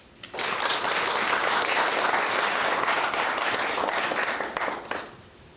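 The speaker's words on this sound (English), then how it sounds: "Please give him another warm applause." A forum audience at an event on AI and global security bursts into sustained, fairly loud applause. Dense clapping holds steady for about five seconds, then tapers off quickly.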